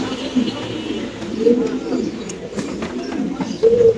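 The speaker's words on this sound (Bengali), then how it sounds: "দর্শক আমরা কবুতরের ডাকটা একটু ইনশাআল্লাহ আপনাদের দেখাই দিই" A pigeon coos in a few soft, low, rounded calls, close by among other birds kept at a pigeon seller's home. A person talks over the cooing.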